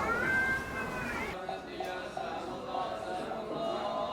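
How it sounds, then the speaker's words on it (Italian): Cats fight at a temple, with a rising, wavering yowl followed by shorter growls and meows. A voice talks over part of the scuffle. "Stiamo assistendo a una battaglia fra gatti."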